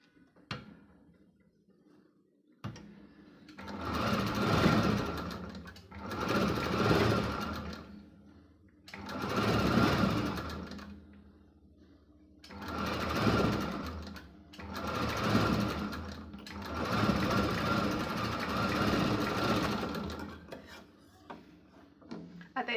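A sewing machine stitching a blouse seam runs in five close, loud bursts of rapid mechanical whirring, each a few seconds long and separated by short quiet pauses. No one speaks.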